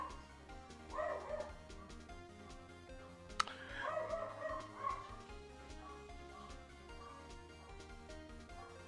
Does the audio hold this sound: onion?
no